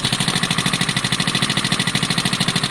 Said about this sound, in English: I'm going to let that idle for ages in case it kind of loosens itself up and sorts itself out